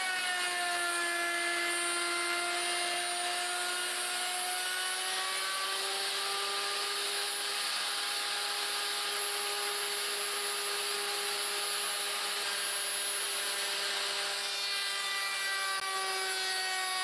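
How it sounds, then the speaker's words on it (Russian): Router fitted with a slot cutter milling a half-depth groove into a wooden workpiece, a loud sustained high whine with a steady tone that holds for the whole stretch without pause or voices. "С помощью вот такой пазовой фрезы буду пропиливать пазик, собственно, на половину глубины заготовки"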